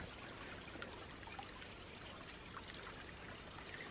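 A small stream beside a trail campsite on the Appalachian Trail in New Jersey trickles with a faint, steady watery hiss throughout, quiet and uninterrupted, with no voices.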